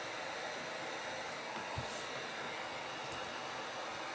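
A heat gun heats trading card packaging during a resealing job, giving an unbroken close-up rush of hot air with a brief faint clatter near the middle and no speech.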